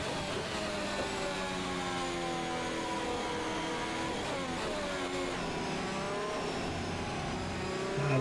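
Race car engine from the F1 2021 video game, driving through the Chinese Grand Prix circuit: a steady, loud, sustained engine whine with shifting pitch that surges slightly at the end, with no talk.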